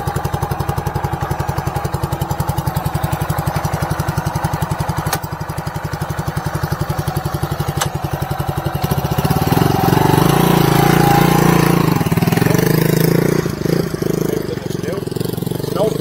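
A new RPS Condor 150cc Grom-clone motorcycle engine runs close by with a steady, throbbing idle, then revs up louder and rougher partway through while voices talk over it.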